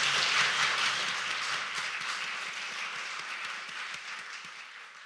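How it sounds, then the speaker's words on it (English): An audience claps in a big round of applause at a celebration of women's progress in maritime life. The dense, steady clapping starts loud and slowly fades over several seconds, with no talking over it. "So a big round of applause for Jo for her input."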